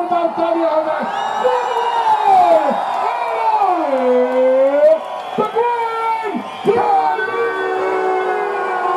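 Crowd at a CWE wrestling show in Solan, Himachal Pradesh, cheering and whooping loudly and without a break for nine seconds, with shouted voices rising and falling throughout.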